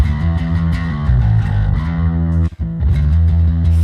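A bass guitar runs through a Darkglass Anagram pedal on its Crunch Loader preset, giving a loud, gritty, distorted bass riff of repeated notes with a brief cutout midway before the crunchy tone resumes.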